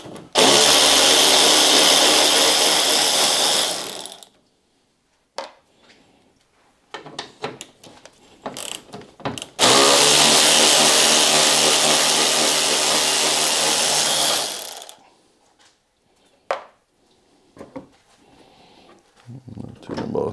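A power tool loosens 10 mm radiator bolts on a Volvo 945 Classic in two long, loud, steady bursts, with clanks and rattles of tools and parts in the pauses between.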